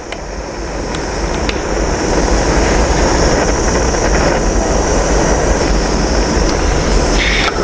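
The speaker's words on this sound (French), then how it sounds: "Donc, j'allume mon brûleur." Lab gas burner being lit for a Beilstein copper-wire test; a broad, steady roar swells in over the first seconds and then holds loud and constant.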